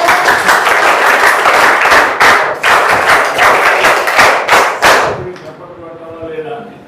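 A group of people claps loudly and unevenly close by, with hard, thumping hand strikes in irregular bursts that stop abruptly, after which a voice speaks over quieter room sound.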